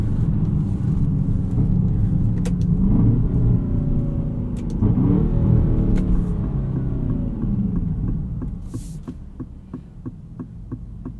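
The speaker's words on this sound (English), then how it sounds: "And kind of a synthetic noise to this engine too." A 2024 Aston Martin DBX 707 drives along with a steady, synthetic-sounding engine hum and road rumble from inside the cabin, with a rhythmic ticking near the end.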